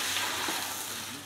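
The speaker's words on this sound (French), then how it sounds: "on prépare tout ce qui est arêtes de poisson qu'on va faire revenir et suer" Fish bones sizzle and fry in a hot saucepan, a steady close crackling hiss with no voices.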